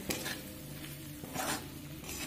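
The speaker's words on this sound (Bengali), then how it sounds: "এবার ভেজে রাখা সয়াবিনটা দিয়ে দেব। দিয়ে আরো সুন্দর করে কষিয়ে নেব" Fried soybean chunks being stirred and sautéed in a pan for a soya dal curry: a steady soft sizzle with scraping stirs and a couple of louder clattering strokes against the pan, with a faint tonal hum underneath.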